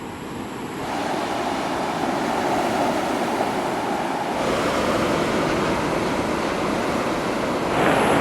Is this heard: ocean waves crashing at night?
yes